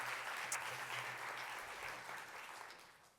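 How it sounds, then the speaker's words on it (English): Faint, steady audience applause at an arts anniversary event, a continuous wash of clapping throughout, with a low hum underneath. "They did a fantastic job, so a round of applause to them."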